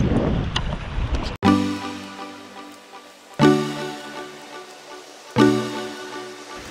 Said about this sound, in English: And the ocean is beautiful.